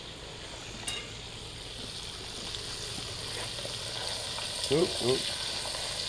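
Trout frying in hot oil, a constant broad sizzle with a few brief bursts, while a voice gives a couple of short exclamations near the end.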